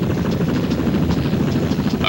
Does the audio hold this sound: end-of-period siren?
no